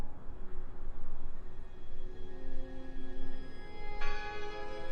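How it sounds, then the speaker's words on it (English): Bell ringing inside the horror adventure game Draugen, heard through boarded walls: a faint, distant tone that rises into a brighter strike near the end over a steady ambient drone. "I heard the bell!"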